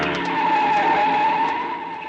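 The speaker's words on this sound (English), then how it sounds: "I was halfway there when I heard the car." Car speeding past with squealing, skidding tires as a radio drama sound effect, a loud sustained tire screech with engine noise lasting about two seconds, no speech.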